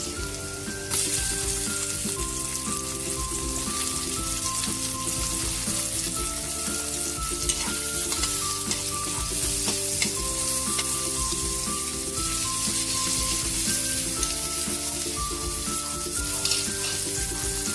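Onions fry and get stirred in a pan while cooking pork sinigang sa miso, a steady dense sizzle running throughout under a constant melodic music bed, with no voices heard.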